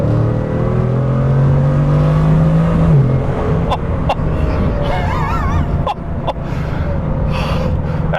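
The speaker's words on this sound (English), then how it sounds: "even just tapping the throttle, you can hear the engine start to do its thing" Bugatti Chiron engine revving on a brief throttle tap, a loud rising low drone that climbs for a few seconds and then drops, followed by a steady rumble with sharp clicks and a short whine.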